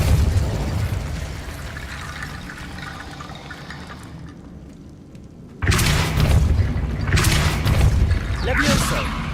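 Magical spell blasts from Hogwarts Legacy gameplay, a Repulso force blast among cast spells: a rushing, whooshing sustained sound, then a sudden loud burst with splashy bursts after it.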